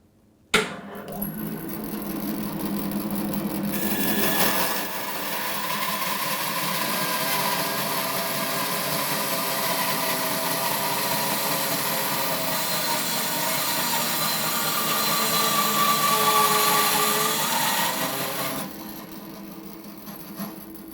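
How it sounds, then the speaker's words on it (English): A Record Power BS350S 14-inch bandsaw with a 1.5 horsepower motor and a 3/4 blade cross cuts a piece of 8-inch oak, giving a steady loud whine and rasp that holds for about fourteen seconds before stopping. "we've got a piece of 8-inch oak that we're just going to cross cut"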